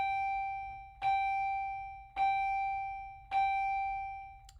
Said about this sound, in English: That bell is so rude.